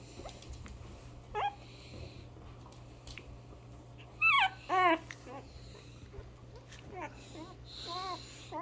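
Soft, high whimpers and squeaks from a puppy come in short bursts over a quiet room hum, a couple of cries louder than the rest.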